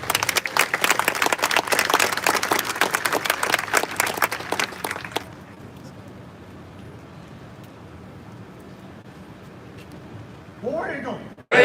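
An outdoor crowd applauds at the Auburn legends statue unveiling, loud dense clapping for about five seconds that stops abruptly, followed by quiet ambience and then a voice speaking.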